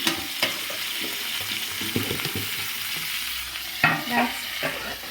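Cauliflower and fish curry is stirred in a pan with a low oil sizzle, a spoon scraping and clacking against the metal in irregular strokes, up close and clear with no talking.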